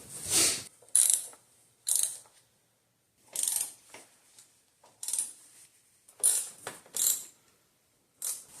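A ratchet tightens a bolt during timing belt replacement on a 1.4L Dodge Dart, in short bursts of rapid clicking separated by pauses, up close with no talking.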